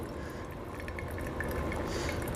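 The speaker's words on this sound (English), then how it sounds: "I'll hold my kettle, I'll hold my water, then I'll start pouring gently" Water pours gently from a kettle over ground coffee in a V60 dripper, a soft, continuous trickle heard close and quiet.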